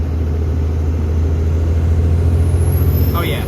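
A Toyota Sequoia diesel-swapped engine with a 5-inch straight pipe runs in a deep, steady low rumble, loud and close, building slightly as throttle comes in toward the end.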